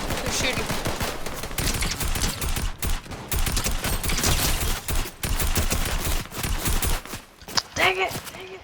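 Rapid bursts of video game gunfire in close, dense volleys, nearly continuous with short gaps, and a voice briefly speaking near the end.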